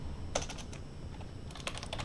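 Quiet clicks of a computer keyboard as someone writes JavaScript code, two short bursts of rapid keystrokes over a faint steady background hum.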